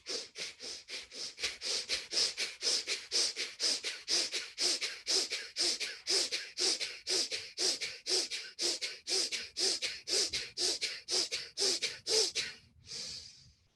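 Breath of fire, a rapid rhythmic breathing exercise: dozens of quick, even, forceful nasal exhalations pulsing at about two per second, close and alone, then stopping with a final release.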